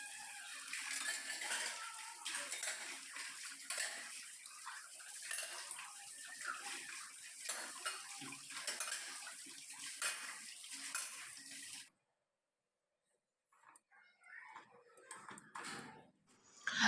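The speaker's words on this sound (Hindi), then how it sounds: "जब दाल बन रही है तब तक मैं बर्तन साफ़ कर लूँगी।" Cooking pots, plates and cutlery are washed by hand at a household tap in the morning: steady running water with clinks and clatters of metal utensils, close, then a sudden pause before splashing and clanking resume.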